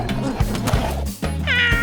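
A single drawn-out cat meow rises clearly near the end, with light children's background music underneath.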